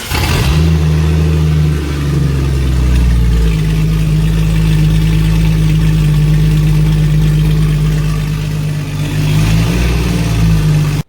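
A 24-year-old Jeep engine cranks over and settles into a loud, steady idle through a cheap downpipe exhaust with no muffler, running continuously and close by as it sits by the garage.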